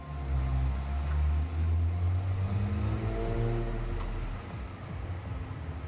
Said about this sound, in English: Yo, is that a Ferrari?